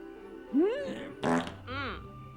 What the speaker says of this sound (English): What's the vapors? Farts.